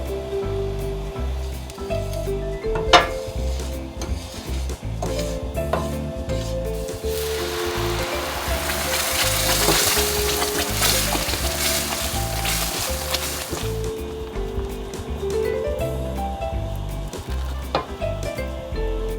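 Olive oil and rosemary frying in a pan for a pasta sauce, a loud steady sizzle that swells in the middle, with occasional stirring scrapes and a sharp knock near the start. No one speaks.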